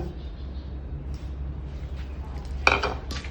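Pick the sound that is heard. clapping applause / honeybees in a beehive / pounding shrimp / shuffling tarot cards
pounding shrimp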